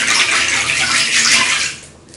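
Water gushes steadily from a tap into a bathtub, a continuous bright rushing pour that holds for about two seconds before starting to ease off.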